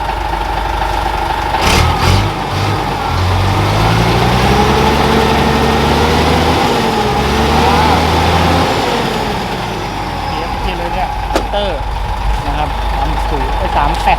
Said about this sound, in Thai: มาฟังเสียงเครื่องอ่ะเสียงใสมากเลย